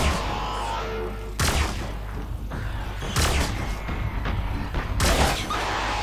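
Sniper rifle shots in Fortnite Save the World, with three loud, well-spaced cracks, each trailing off in a short echo, over busy game sound.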